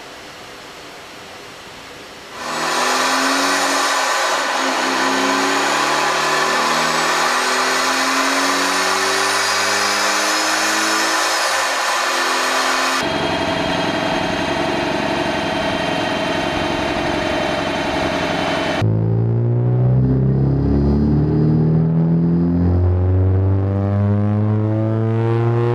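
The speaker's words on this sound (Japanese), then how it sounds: "スーパーチャージャーの最高回転数を11万回転でセッティングしていきたいと思います" A fully tuned, supercharged Honda CR-Z engine running on a power-check dyno, its supercharger pulley changed to 90% and set for a 110,000 rpm maximum: a loud, sustained roar with rising harmonic whine that shifts in tone across several steady stretches.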